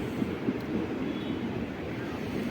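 Parasuram Express passing a 106-year-old railway station, a steady broad rolling rumble at moderate level with a few faint clanks, no talk.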